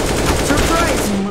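AK rifle fire in a video game: a loud, dense run of rapid automatic shots fills the whole short burst, steady and close.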